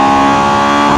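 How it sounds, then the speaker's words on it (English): A Honda Civic Type R EP3 with an aftermarket exhaust holds a loud, close, steady rev, a brief sustained engine note with no talking. "These cars sound great with an exhaust."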